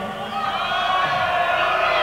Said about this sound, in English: What did you pay them to come here and cheer for you tonight?